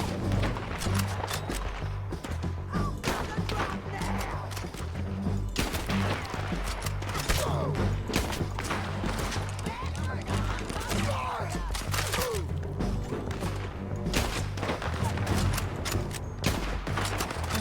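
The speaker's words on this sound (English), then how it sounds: "Shooting at Sadie or just me?" Gunfire in the video game Red Dead Redemption 2, a dense, sustained fusillade of sharp shots and bursts from several guns, loud and continuous throughout, with thuds and game sounds mixed in.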